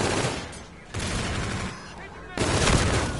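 Gunfire in the first-person shooter Call of Duty: Infinite Warfare, with dense bursts of automatic weapon fire that swell and drop in loud waves and continue steadily throughout.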